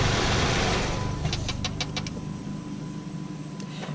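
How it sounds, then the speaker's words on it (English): A Jeep Patriot engine rumbles, then cuts off and fades to a quieter hum, with a few brief clicks and ticks as it winds down. "And we can turn the car off now."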